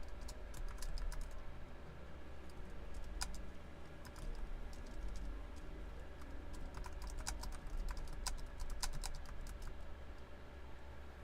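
Keys on a computer keyboard clatter in irregular runs of quick taps, near and soft, with short gaps between bursts above a constant low background drone.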